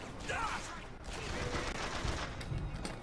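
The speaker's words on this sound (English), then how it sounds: "who's shooting at me?" Gunfire in the video game BioShock Infinite, a dense burst of game shots and effects running continuously for about three seconds, with a voice speaking over it.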